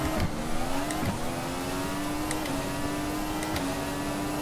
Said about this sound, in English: Just doing endless laps around here in the Audi R8.